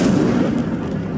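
Incendio fire spell cast in Hogwarts Legacy, a loud low whooshing roar of flame that bursts at once and fades gradually over about a second.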